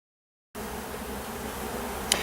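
Honey bees crowding over a hive frame around an unmarked queen, their dense, even buzzing starting abruptly from silence and continuing close and steady, with one brief sharp click near the end.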